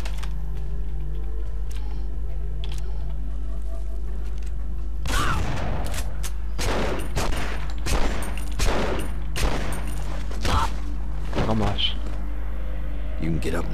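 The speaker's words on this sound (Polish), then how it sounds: "Stay here until the shooting stops." Bursts of gunfire from the Punisher video game crackle in rapid volleys over a constant low hum, loud and close, with several sharp shot clusters in quick succession.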